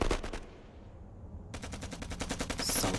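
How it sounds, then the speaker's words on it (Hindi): Rapid bursts of close-range gunfire in a real firefight, loud and rhythmic, pausing briefly before a steady string of repeated shots resumes. "ये तो फायरिंग बहुत नजदीक से हो रही है।"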